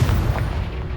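Confringo fire spell exploding in Hogwarts Legacy, a loud booming blast with rumbling low-end impact sustained through the whole second, no voices over it.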